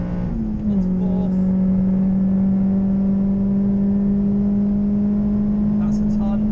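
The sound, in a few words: Citroen C4 VTS 180 accelerating in fourth gear on circuit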